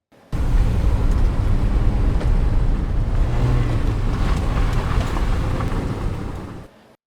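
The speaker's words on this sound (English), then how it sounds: "we're pulling up on some gravel" Tires crunch over gravel as a car pulls up, a steady close rumbling wash of loose stones that holds for several seconds and then eases off, made as game sound design.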